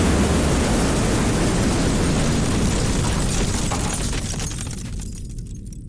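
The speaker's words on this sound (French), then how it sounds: "S'ensuit effectivement une explosion si violente qu'elle fait voler le toit de 1000 tonnes du réacteur dans les airs" A massive reactor explosion at Chernobyl in 1986, rendered as a loud, dense roaring blast of broadband rumble and debris that fills the space and slowly fades out over several seconds.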